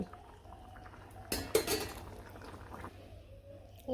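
Metal pot of potato curry lifted off a village stove, a brief clatter and clink of the pot and utensils in the middle, followed by faint kitchen sounds.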